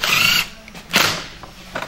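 A power drill driving 3/4 inch tech screws into an insulated concrete form: two short whirring bursts separated by a pause, close and loud, with no talk.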